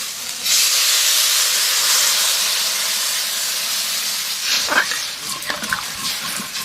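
Water hits a hot pan of fried lentils with mustard and dried chillies, bursting into a loud, close hiss that slowly fades, followed by a few clinks and light handling sounds near the end.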